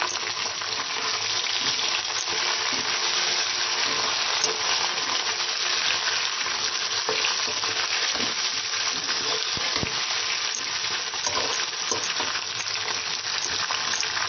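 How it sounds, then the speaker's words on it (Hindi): Chicken frying with onions in a pan gives a loud, continuous close sizzle with occasional stirring clatter throughout. "चिकन को प्याज के साथ फ्राई करते हैं"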